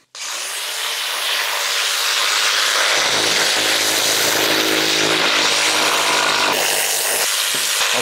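Jigsaw cutting through a wooden stair, a loud continuous buzzing rasp that starts abruptly and holds steady at close range for the whole stretch, without talk.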